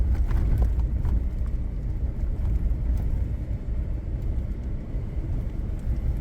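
A truck rolls along a narrow road with a steep drop-off, heard as a steady low engine rumble and rough road noise from inside, with no voices.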